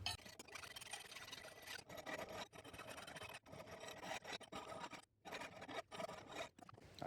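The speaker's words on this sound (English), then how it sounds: "You can clean up those bits in the middle with a file, it'll be easy enough." A hand file rasps back and forth across the metal rays of a church piscina gate, steady close strokes with brief pauses between passes.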